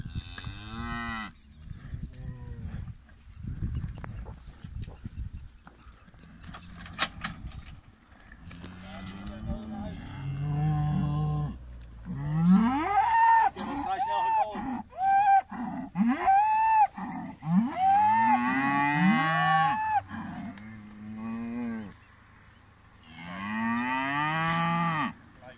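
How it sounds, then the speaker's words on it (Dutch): Cattle moo repeatedly as they are led out toward the barn on a Dutch farm, several long, loud calls, some overlapping, with people talking in between and hooves shuffling nearby. "Zijn die koe eruit halen."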